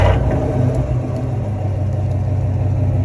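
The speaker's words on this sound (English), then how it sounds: "every time that V8 roars" A 2022 Chevy Silverado ZR2 pickup's V8 engine rumbles loudly and continuously nearby, a deep steady throaty drone with no talk over it.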